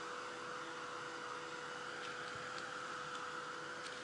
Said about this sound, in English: So I'm just going to heat set it just to make sure that we're all good to go.